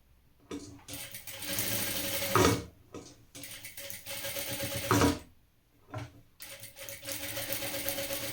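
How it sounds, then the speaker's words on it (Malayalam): An electric sewing machine stitches lining along the edge of a women's top in bursts of steady mechanical whirring, stopping briefly between runs, close and fairly loud. "അങ്ങനെ വെച്ചിട്ട് ഉണ്ടാവും ഇതിൻ്റെ അരികു വശത്ത് കൂടെ ഇങ്ങനെ തയ്ച്ചു കൊടുക്കുക."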